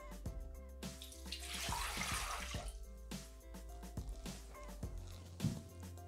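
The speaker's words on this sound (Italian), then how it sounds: "Iniziamo la ricetta mettendo all'interno del boccale l'acqua." Water pours into the mixing bowl of a Thermomix kitchen appliance, a brief rushing splash swelling for a couple of seconds and then fading, quiet, with background music underneath.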